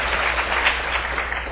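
Crowd at a law convention on democracy applauds in a dense, even burst of clapping, fairly loud and continuous for a moment, without any voice on top.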